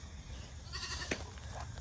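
A single goat bleats once, a brief and fairly faint cry over a steady low background hum.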